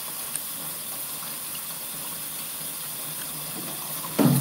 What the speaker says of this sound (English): You can't hear me with the water.